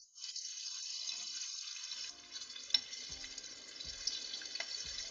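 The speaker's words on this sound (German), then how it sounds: "Ich lasse das Öl ablaufen und die Farbe der Paprika bleibt grün." Oil draining off fried green peppers, a thin steady trickle with faint sizzling and a few small clinks and taps, quiet and close throughout.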